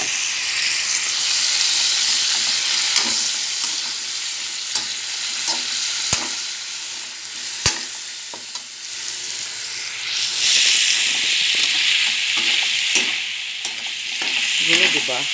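Chicken pieces frying in a pan with onion and garlic, giving a steady loud sizzle and hiss throughout, broken by sharp scrapes and knocks of a utensil stirring the pan, close by, with no talking.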